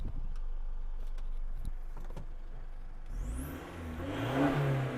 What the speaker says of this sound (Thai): ท่อลั่นลั่นอ่า เหยียบ ให้ดูดิ